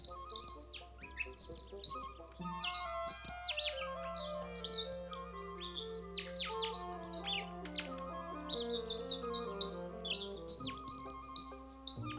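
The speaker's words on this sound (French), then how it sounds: "Non, je t'en prie, Bobby, son chant me plaît beaucoup." A cartoon bird sings a sweet, warbling song of rapid high chirps and trills in bursts, set over a steady tonal musical backing.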